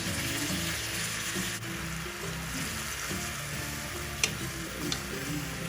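Pork with ginger sauce thickened with cornstarch sizzles and fries steadily in a pan while being stirred, with occasional scraping ticks of the utensil, fairly close and continuous with no talking.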